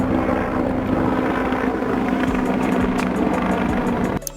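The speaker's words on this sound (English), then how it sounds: "A helicopter equipped with water tanks or buckets to help extinguish wildfires." A firefighting helicopter fitted with water tanks or buckets for wildfire suppression, its steady rotor and engine drone loud and continuous with a droning hum, cutting off abruptly at the end.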